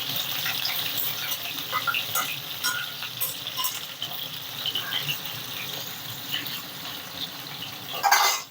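Baby potatoes frying in hot oil, a continuous close sizzle with light rattles and stirring taps, ending in a brief louder clatter.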